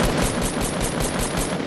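Rapid burst of Spaz 12 shotgun fire in Fortnite, loud close blasts running together almost like automatic fire, with no voice over them.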